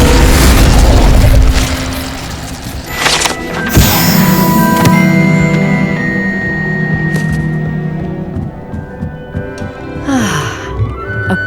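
An Incendio fire spell goes off in the Hogwarts Legacy video game during an astronomy scene, a loud booming blast with a sharp hit, then a sustained ringing, humming tail and a few softer whooshes after it.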